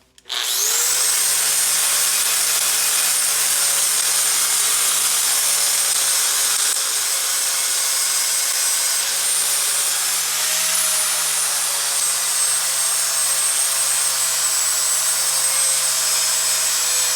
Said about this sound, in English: I ended up just using a grinding wheel because I was just burning up my flat discs.